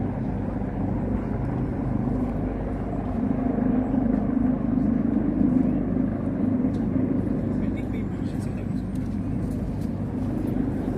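A helicopter hovers overhead, its steady low rumble droning continuously over the whole stretch while people talk beneath it.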